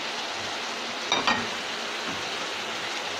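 Sliced onion hitting a hot pan already fragrant with spices, a steady broadband sizzle with a brief louder crackle burst, close and without talk.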